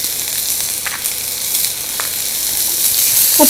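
Onions sautéing in a pan for stuffed puri, a steady bright sizzle with faint stirring scrapes, growing slightly louder toward the end, with no voices.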